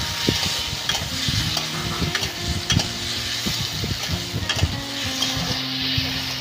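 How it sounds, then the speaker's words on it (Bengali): Onion, ginger, garlic and red chilli paste frying in a pan for a rohu fish and potato curry, stirred constantly with a spatula: loud continuous sizzle with rhythmic scraping and knocks. "এবার সব কিছু খুব ভালো করে নেড়ে নিচ্ছে।"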